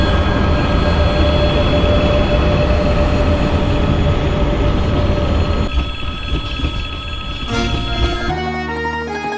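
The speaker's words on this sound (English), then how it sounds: "we've got to wait for another Trans-Siberian Railway train" A Trans-Siberian Railway train rolls past near Khabarovsk, Russia, with a loud, close, continuous rumble of wheels and cars, sustained metallic ringing tones, and a shift in sound near the end.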